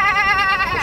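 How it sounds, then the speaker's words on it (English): A single sheep bleats close by, a short wavering cry lasting under a second, heard on its own. "Look at the sheep."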